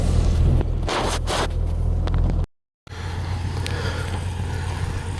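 A Suzuki SJ off-road vehicle needing a tune-up crawls over rocks with a steady, close low engine rumble and scraping bumps, cut off briefly by a short dropout before the rumble resumes.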